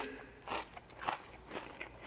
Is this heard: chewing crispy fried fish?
yes